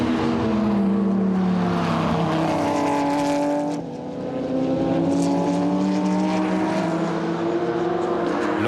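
GT race cars, a Viper among them, roar past on track in a close battle late in the race, with loud, sustained engine howls and rising and falling pitch as several cars blast by. The sound dips briefly midway.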